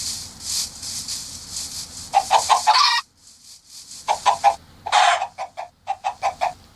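Chickens clucking in quick, loud bursts of short, sharp calls, broken by a brief quiet pause before the rapid clucking starts up again close by.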